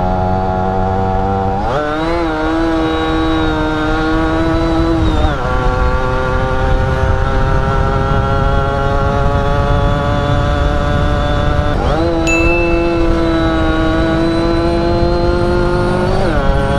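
Yamaha F1ZR two-stroke motorcycle revving hard and accelerating in third gear, a loud, buzzing engine note that climbs in pitch, dips at a shift, then climbs again, with faint voices underneath.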